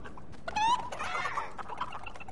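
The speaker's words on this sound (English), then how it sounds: "Look at all those chickens." Chickens cluck in the video game Fortnite, a brief rising squawk and a few clucks heard over steady game background noise, with no one speaking.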